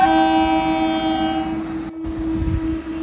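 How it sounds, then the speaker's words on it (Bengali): A brand-new pink ICF EMU local train on the Pandua to Howrah route sounds a long, loud, steady horn as it arrives, followed by the rumble and clatter of the approaching cars. "এবার আসছে Pandua two Howrah brand new pink colour ICF EMU local train"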